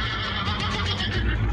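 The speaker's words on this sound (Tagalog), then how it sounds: "Glenda, humahabol sa atin ang taong kabayo." A horse-man monster neighs loudly and close, a drawn-out whinny over rumbling thuds of a chase.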